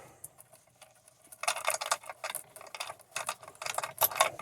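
A ratchet clicks quickly as a steering wheel bolt is backed out, fast close-up rattling bursts that start softly and grow busier, with no talking.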